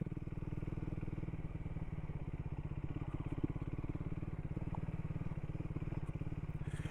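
Triumph 400 Supermoto motorcycle riding in second gear at low speed, its single engine throbbing in a steady, close, continuous putter with a faint clatter, no talk over it.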